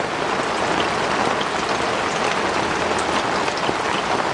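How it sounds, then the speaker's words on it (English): Steady rain pours down outdoors on Sanibel, a dense, even hiss of drops hitting surfaces that stays loud and unbroken throughout, with no voices. "if it stops raining."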